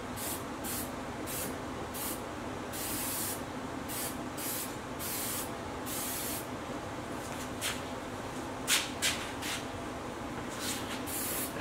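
Crinkle finish paint is machine-sprayed in a workshop, with a long, steady hiss of the spray gun broken by short bursts and pauses. The spraying is moderately close and carries on with no one speaking.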